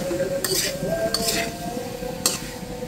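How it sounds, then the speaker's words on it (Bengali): Tilapia with winter vegetables and green chilies in a curry pan is stirred, with three distinct spatula scrapes and light clinks of metal over a soft sizzle. "এখানে দিয়ে দিচ্ছি কয়েকটা কাঁচামরিচ, এটা দিয়ে একটু নেড়ে ছেড়ে নিচ্ছি।"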